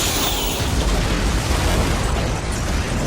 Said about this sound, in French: il y a des explosions dans le film